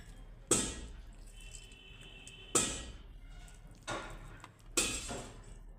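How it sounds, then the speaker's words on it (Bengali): Water is squeezed out of boiled flat beans by hand, giving four separate bursts of wet splashing and dripping at roughly even gaps, close and quiet, with no talk. "এখন আমি জলগুলোকে নিকড়ে নেব এই দেখুন কত জল বেরোচ্ছে"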